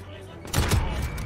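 In Call of Duty Modern Warfare, Kar98 sniper fire cracks out in a sudden loud burst of gunshots that follows a quieter stretch of game sound, with someone talking over it.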